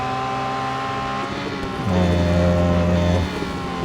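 A Porsche race car in Real Racing 3 drones steadily at Circuit de Catalunya, then its engine note jumps louder and higher as it overtakes another Porsche, holding a strong harmonic whine before easing back.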